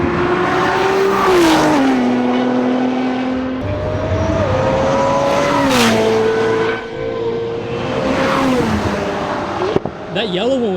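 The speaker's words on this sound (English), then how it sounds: "Here comes the Nismo GTR." A Nissan GT-R Nismo sports car drives past loudly and close by, its engine note rising and falling through several gear changes as other fast cars circulate nearby.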